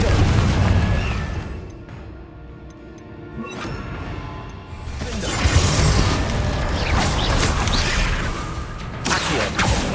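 Spell explosions from Bombarda and Confringo in the video game Hogwarts Legacy: loud, booming blasts with crashing debris and magical bursts, several overlapping impacts rolling on through the stretch without a pause.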